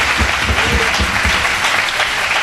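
A church congregation breaks into steady applause mixed with cheering during a Friday night service, a dense continuous wash of clapping filling the space without any clear speech on top.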